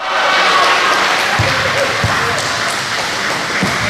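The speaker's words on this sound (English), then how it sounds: "Yes, it's okay to clap now." A crowd claps in a gym during a basketball game, a steady wash of applause with a few ball bounces and thuds beneath it.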